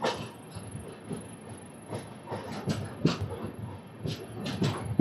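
A train stands at Chennai Egmore station amid a hissing, clanking platform ambience with scattered metallic knocks and rumbles, moderately close and irregular.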